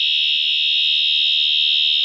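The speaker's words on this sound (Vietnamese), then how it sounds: "Khi xuất hiện khói hoặc lửa, tín hiệu báo cháy sẽ phát ra." A fire detection system's alarm sounds off, a loud, steady, piercing electronic tone held unbroken from start to finish, close by and alone.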